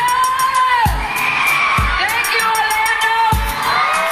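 A crowd of children at a concert cheers and shouts in loud, rising and falling whoops, with sharp booming thumps punctuating the excited noise at irregular intervals.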